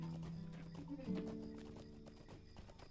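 Horse hooves clip-clop steadily on a path in the Lord of the Rings Online video game, with a brief neigh near the start, moderately quiet under a faint game soundscape.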